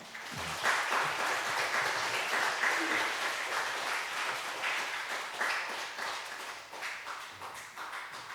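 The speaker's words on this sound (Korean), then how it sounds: "우리 나오실 때 우리 큰 박수로 맞이해 주시겠습니다." Sustained applause from a church congregation, dense and steady clapping filling the room for several seconds.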